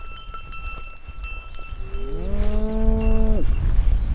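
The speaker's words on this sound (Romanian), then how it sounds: "O vacă se scarpină de stâlp." Cows and calves on a rural hillside stretch of the Via Transilvanica trail in Romania, with a cow's bell clanking as she scratches against a trail marker post, then a long, loud, close moo rising over the jangling.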